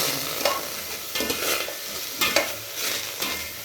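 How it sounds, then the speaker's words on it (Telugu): A spoon stirs ginger-garlic paste, green chilli, tomato and carrot frying in a pan for pudina rice, with no oil. Rhythmic scraping strokes and sharp clicks sound over a continuous close sizzle. "ఇవన్నీ ఒక 2-3 minutes వేయించాలి"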